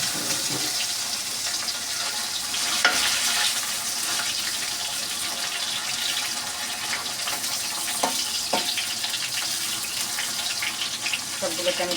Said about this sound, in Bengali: এখন এটা আস্তে আস্তে ভাজা হোক